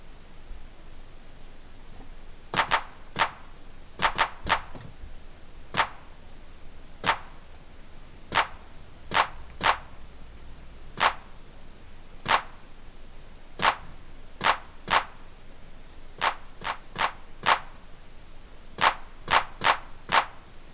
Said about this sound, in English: But I appreciate having a good clap engine